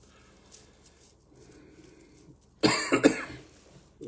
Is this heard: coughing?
yes